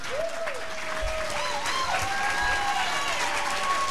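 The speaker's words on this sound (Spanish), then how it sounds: "ahora que tienen que aplaudir" A church congregation applauds during a pastor's ordination at a Evangelical church, a sustained wash of clapping from many people, moderately loud, with a few whistling tones and some talk running through it.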